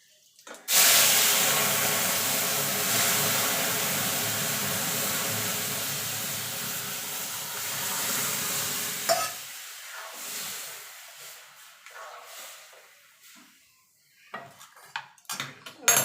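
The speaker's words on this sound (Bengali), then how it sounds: "ফোড়নটা ভাজা ভাজা হয়ে গেছে। এবার ডালটা দিয়ে দেবো।" Masoor lentils for bottle gourd dal hit hot oil with a cumin and dried chilli tempering, setting off a loud, close sizzling hiss that fades out over several seconds, followed by scattered clinks of a spoon against the pot.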